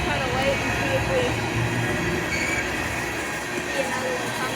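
A CSX tanker train rolls past at steady volume, a continuous rumble and rail noise filling the scene with faint wheel squeal, while people talk quietly beside the tracks.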